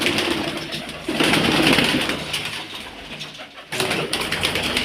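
Pigeons cooing close by in soft, throaty bursts around a pigeon coop, with some rustling and shuffling between the calls.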